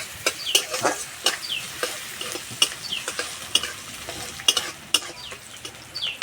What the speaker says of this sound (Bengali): পেঁয়াজটা যতক্ষণ হালকা বাদামি কালার হয়ে ভাজা না হচ্ছে ততক্ষণ এইভাবে ভাজতে থাকবো